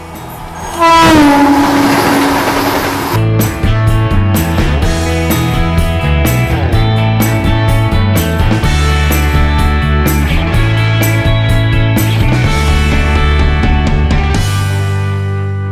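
Ganga Sutlej Express passenger train running from Firozpur to Dhanbad: a loud horn blast sounds near the start, then a steady, close rumble and rattle from the moving train, with no talking.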